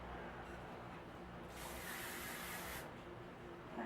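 One sustained hairspray aerosol spray hisses for about a second and a half, close and fairly loud, set against quiet room noise.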